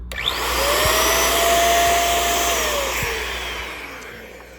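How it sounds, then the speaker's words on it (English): An electric air duster blows with a loud whooshing hiss that rises, holds steady with a high whine, then winds down. "The sound reminds me of my vacuum, but instead of sucking, it's blowing."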